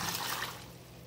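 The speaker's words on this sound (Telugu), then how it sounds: "ఇప్పుడు ఇవి ఉడికించిన నీళ్ళు కూడా మనం ఇందులో వేసేద్దాం." Water from boiling potatoes and carrots pours briefly into a pot of cauliflower curry with a soft, splashing trickle, faint and close, lasting about a second.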